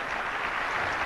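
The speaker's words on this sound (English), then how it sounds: "Give Glenn a round of applause." Brief burst of dense, even clapping from a seminar audience at a motivational speaker's talk, steady and moderately loud for about a second with no voices over it.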